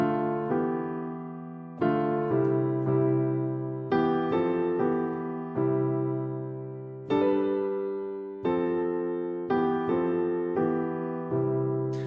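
Piano chords struck one after another in a slow, even pattern, each ringing and fading before the next, open-sounding voicings with no talk.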